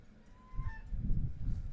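Ducks at a pond by a pilgrimage shrine in Kaithal, a short honking call followed by low rumbling quacks and murmurs, close and brief.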